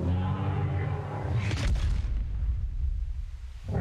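Bombs dropped from an Astrocetus space whale in Ark: Survival Evolved's Genesis map, a deep rumbling explosion swelling over a continuous low droning hum, fairly loud and sustained throughout.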